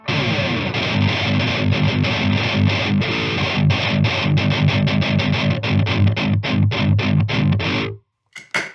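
A bright, driven electric guitar through a boost pedal plays a fast chugging riff with crisp attack, loud and continuous, then stops abruptly before a few short notes.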